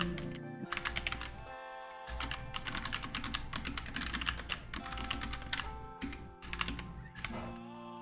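Fingers type on a computer keyboard during code typing practice, producing rapid, close clicking keystrokes in dense bursts with brief pauses between runs, steady and alone without talk.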